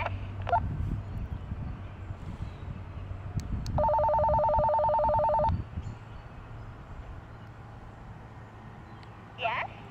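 A short electronic ringing tone from a Gaswei G2pro heavy-duty walkie-talkie pulses for about two seconds over a quiet outdoor background, with brief voices and clicks around it.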